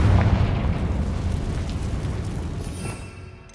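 Confringo fire blast spell exploding in the Hogwarts Legacy video game, a loud booming burst right at the start whose rumbling roar slowly fades over a few seconds.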